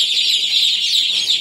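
Chickens in a poultry pen give off a continuous, fairly loud high-pitched clucking and chattering that runs steadily through the whole moment, with no talking over it.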